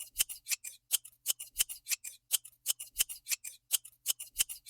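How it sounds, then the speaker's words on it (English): Scissors snip through paper card in a fast, steady run of crisp cuts, about four per second, close and clear, while trimming a card as straight as possible. "I'm going to try to very carefully trim this down as straight as possible"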